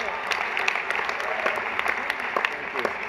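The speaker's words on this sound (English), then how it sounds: "Can we have a round of applause for Chuck Schumer?" A dinner audience at a New York charity event applauds Chuck Schumer in a dense, steady wash of clapping, with no voices heard over it.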